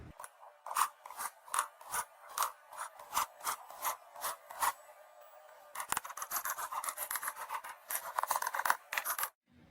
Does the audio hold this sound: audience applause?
no